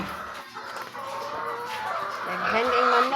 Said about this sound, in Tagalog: Daghan kay manok.